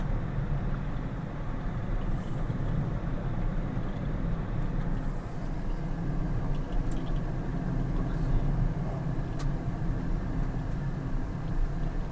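A Tata Tiago electric car accelerates in sport mode, heard from inside as a steady broadband road and cabin rumble with a faint high whine, continuous and even throughout, with no one talking.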